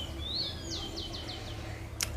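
Birds chirp outdoors after rain: a rising whistle, then a quick run of four descending chirps and a sharp high note near the end, moderately distant over a steady low background rumble, with no talking.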